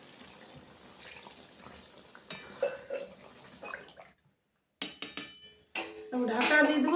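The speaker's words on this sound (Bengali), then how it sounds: "এবার হালকা জল দিয়ে দেবো," Water poured into a pot of cooked-down goat mutton curry. A brief splashing rush near the end follows quieter clinks and kitchen clatter.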